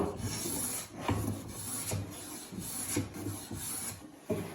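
A Stanley No. 3 hand plane, reworked for use, rasps along a piece of wood in repeated strokes, each pass a rough scraping rush, close and steady, about five strokes.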